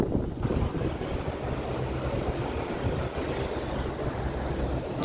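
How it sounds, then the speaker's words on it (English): Cold wind blows outdoors and buffets the microphone with a steady, loud, broadband rush, dipping briefly about halfway through. No talking is heard. "The wind's blowing."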